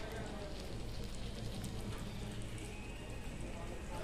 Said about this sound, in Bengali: এখন আমরা চিকেন ফ্রাই করছি